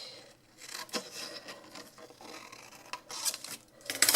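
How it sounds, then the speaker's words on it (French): Scissors cut out a small paper label for a handmade mini album, giving a few soft rasping snips and rustles at close range, with no talking. "Je vais la découper tout simplement."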